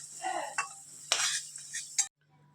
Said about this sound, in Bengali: আলুগুলো ভাজা ভাজা হয়ে এসছে, এবার নামিয়ে নেব